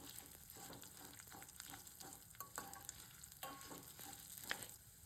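Dry red chillies roast in a pan for gongura chutney, a faint, close crackle with light scraping and stirring taps, quiet and without voices.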